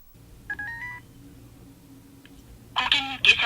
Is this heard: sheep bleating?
no